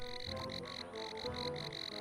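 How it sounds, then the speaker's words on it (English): A frog calls inside the ant-colony strategy game Empires of the Undergrowth, a steady high trilling chorus repeating in short pulses over a low background game ambience, with no talking. "Oh, this little froggy calling."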